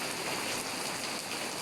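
Steady rain falls in Kharian after a spell of heat, a dense, even hiss of drops on surfaces that holds without a break and without any voices.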